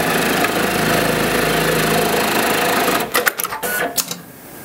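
An industrial programmable pattern sewing machine with pedal-operated clamp stitches a programmed pattern, a loud close rapid mechanical whirr that runs steadily, then breaks into short clattering bursts as it stops and repositions.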